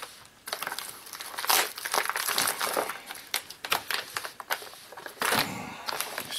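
A tough plastic-wrapped package from TM Electronics is crinkled and torn open up close in a run of sharp rustles, rips and crackles that come in uneven bursts, with no talking.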